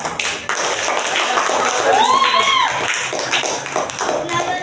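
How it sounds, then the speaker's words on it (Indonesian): A classroom group claps and applauds a student group after their presentation, a dense burst of many hands clapping together at close range, with voices mixed in. "Kita beri tepuk tangan untuk kelompok 1."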